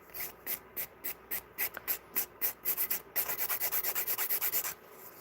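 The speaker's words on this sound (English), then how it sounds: "This is the only time you will use your drill, is when you go to do the moon shape itself." An electric nail drill shapes an acrylic nail, making rapid, evenly spaced gritty buzzing strokes close up, the rhythm quickening into a fast steady series toward the end.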